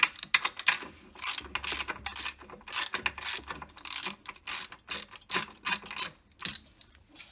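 A ratchet clicks in short bursts as it loosens a 15 mm bolt beside the fan belt of a Jeep Cherokee engine, the rapid pawl ticks coming close and crisp, with pauses in between.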